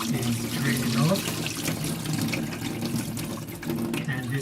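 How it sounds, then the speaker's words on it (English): Salted water drains and pours off cabbage soaked for kimchee, a continuous close splashing rush that fills the whole stretch, with a voice murmuring beneath it. "the cabbage has been soaking in salted water for the last 24 hours, and all we're going to do now is drain it off."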